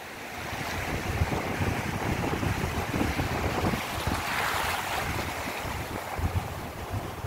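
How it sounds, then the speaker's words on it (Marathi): Waves roll onto Nagaon beach in Alibaug with a steady roar of surf. Strong wind buffets the microphone throughout, and no one speaks. "सो हा आहे नागावचा बीच"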